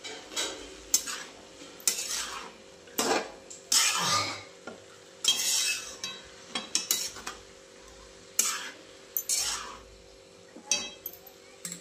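Cabbage cooked with peanut powder and masala, stirred in a pan: repeated scraping, stirring strokes in irregular bursts with quiet gaps, a faint sizzle underneath and occasional utensil clinks.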